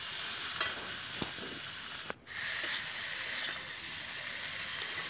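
Fried potato and cauliflower are stirred through hot oil in a pan for a vegetarian curry, a steady close sizzle with a spoon scraping now and then, and no talking.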